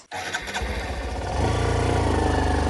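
A motorcycle engine in a village starts with a quick cranking burst, then settles into a close, loud, evenly throbbing idle that grows fuller and steadier after a second or so, with no voices.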